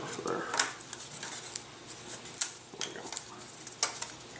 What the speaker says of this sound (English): Next, let's go ahead and cut out these locking lugs.